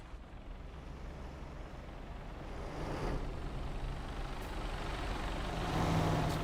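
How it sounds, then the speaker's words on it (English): A truck engine idles in the TruckersMP driving game, giving a steady, broad, low rumble that swells slightly toward the end. No voices are heard over it. "Why do I hear your engine as if you're only in, like, idle speed?"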